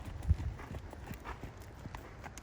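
Hooves of a horse walking in a riding lesson arena thud softly and irregularly at a distance, faint against low background rumble, with no talking.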